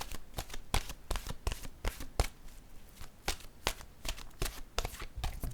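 Oracle cards being handled and shuffled at a tarot-style reading table, a rapid irregular series of crisp papery flicks and taps, close and moderately quiet with no talk.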